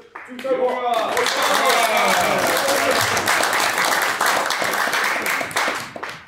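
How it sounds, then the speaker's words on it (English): An audience at a Māori cultural show in New Zealand breaks into sustained applause after a haka and weapons demonstration. The dense, loud clapping and cheering swell quickly and hold steady for several seconds before tapering off. "how about a round of applause for our two warriors in our segment?"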